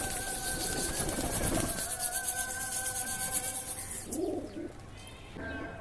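Pigeons coo softly while pecking at scattered paddy in a loft, with a steady rubbing, scratching texture of feeding and a brief louder flutter near the end.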